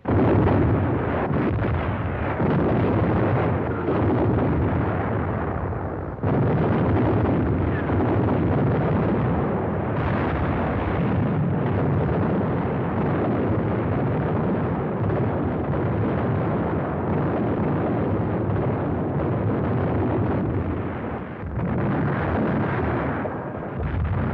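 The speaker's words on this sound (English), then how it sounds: "For days, long-range guns hurled ton after ton of high explosives into the heart of the city." Long-range guns pounding a city with high explosives in wartime, a continuous loud roar of heavy blasts and rumbling, dense and unbroken for the whole stretch.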